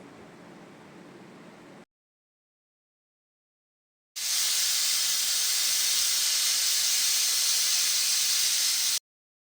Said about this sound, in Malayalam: മൂന്ന് വിസിൽ കേൾക്കുമ്പോൾ കുക്കർ ഓഫ് ചെയ്യുക